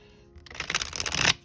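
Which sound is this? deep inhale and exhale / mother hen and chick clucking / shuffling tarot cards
shuffling tarot cards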